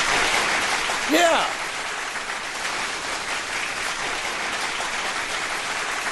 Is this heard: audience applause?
yes